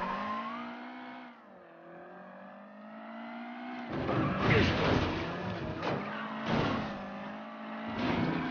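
A race car engine in Mafia III on PC revs and shifts gears, then roars with tire squeals and skids, loud and close, with no talking.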